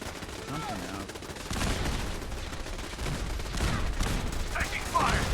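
Gunfire from Fallout 4 crackles in steady, overlapping bursts, with the volume rising in steps as shots pile up into a dense fusillade, and speech is faintly mixed in.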